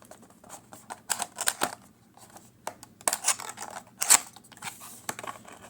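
Packaging for a Civivi Zizzle knife being cut open, with a series of short crisp snips and scrapes in irregular bursts, close and fairly quiet, with no talking.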